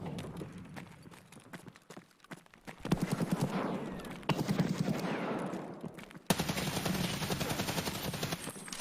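Distant gunfire in an Escape from Tarkov trio match on the Shoreline map, scattered shots and short bursts over background rumble and footsteps, fairly faint.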